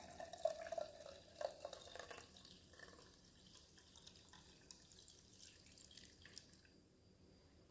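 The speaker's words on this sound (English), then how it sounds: "So now I'm just going to pour this right through my wire mesh strainer." Homemade oat milk drips and trickles through a wire mesh strainer, a faint, soft patter of liquid at close range in a quiet kitchen, with no talking.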